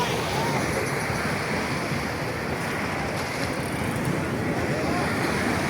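Sea waves roll and crash steadily at night on Sugandha beach in Cox's Bazar, a continuous loud surf wash with wind buffeting the microphone throughout.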